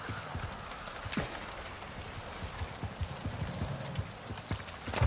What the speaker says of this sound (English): you can hear his footsteps loud and clear running around.